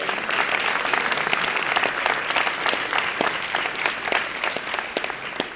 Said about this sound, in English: Can we have one more round of applause for all of our teams today?